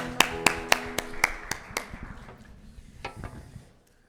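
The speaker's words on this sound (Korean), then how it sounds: "서로에게 축복의 박수 드리겠습니다." Sharp, evenly spaced claps ring out in a Korean church congregation during a Sunday worship service, loud at first and then thinning and fading over a few seconds.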